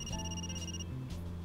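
A telephone rings inside a prank video game about a couple: bright electronic ring tones sound briefly, then a short lower-pitched buzz, all fairly close and with no voices.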